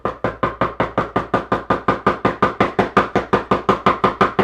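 Someone knocks on a door in a fast, even run of about twenty loud, close raps, with no talking.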